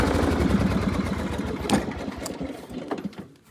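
The engine of a John Deere L100 lawn tractor runs near and loud with a rapid, even chugging idle that fades slightly toward the end.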